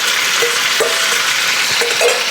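Tomatoes dropped into a hot pan give a steady broadband sizzle with a few brief stirring knocks, close and fairly loud, with no talking.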